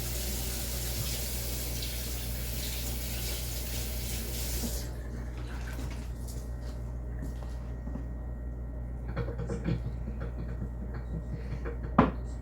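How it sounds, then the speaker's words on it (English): Warm water runs from a tap for washing jelly jars in a home kitchen, a steady broadband rush that cuts off partway through, followed by quieter clinks and a sharp knock near the end. "So I'm just getting some warm water because I want to wash these jars off"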